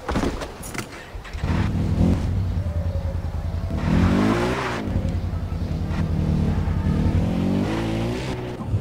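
Quad bike engine in Far Cry 4, droning loud and steady throughout with rising revs and shifting pitch, tire skids mixed in, no talking.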